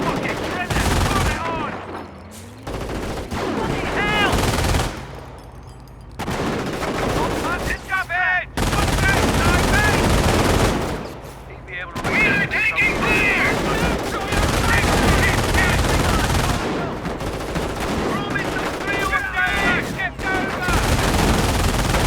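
A German half-track's machine gun firing in Company of Heroes, long rattling bursts of automatic fire with pauses, mixed with other gunfire and battle noise while voices call out over it.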